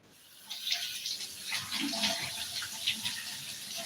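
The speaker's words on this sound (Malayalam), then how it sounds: "ആദ്യം തന്നെ ഇതുപോലെ വെള്ളത്തിൽ ഒന്ന് കഴുകി കൊടുക്കണം കേട്ടോ" Water pours and splashes steadily from a tap as crabs are rinsed before cooking a traditional clay-pot crab curry, a close continuous gush starting after a quiet moment.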